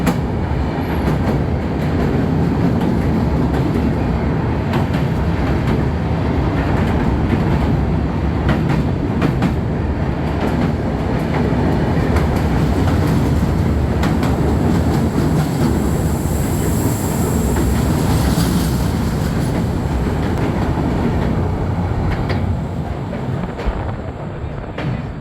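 Steady rumble and rattle of the 12259 Duranto Express running on the line toward Delhi, with continuous wheel clatter and carriage noise heard from inside the train, loud and unbroken throughout.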